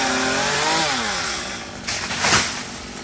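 A chainsaw cuts a coconut tree in the rain. Its engine whines loudly, revving up and easing down, then roars again in short bursts as the chain bites, close by.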